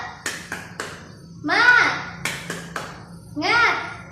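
A primary school class does a rhythmic spirit clap, sharp claps in a quick pattern alternating with children chanting together in unison, loud and close.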